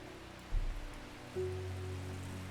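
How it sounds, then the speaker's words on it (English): Soft, steady patter of rain in the video game Strange Horticulture, with a couple of dull bumps and a low sustained tone underneath; no voices. "It is raining."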